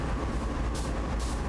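A freight train in Train Sim World 2 on the Sand Patch Grade, reversing at about 24 mph: a steady, loud rolling rumble of wagons with two brief hissing swells.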